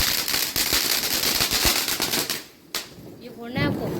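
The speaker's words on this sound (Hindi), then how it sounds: "पटाखे भी छोड़ दिए हैं" Diwali firecrackers burst in rapid crackling strings of sharp pops, then a lone bang after a short lull, with voices talking nearby as the crackle fades.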